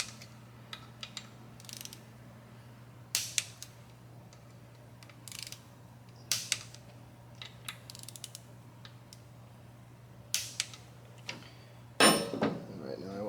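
Torque wrench tightening the oil pump bolts on a 143 cubic inch Harley-Davidson Milwaukee 8 engine, with spaced ratcheting clicks and metallic clunks close by and a steady hum underneath.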